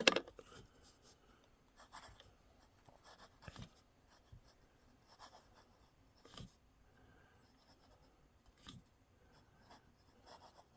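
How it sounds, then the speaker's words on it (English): An Esterbrook fountain pen nib scratches and glides across paper in a close, quiet series of short strokes with brief pauses, a soft rasping rhythm and no talk. "the nib is singing as opposed to catching on the paper."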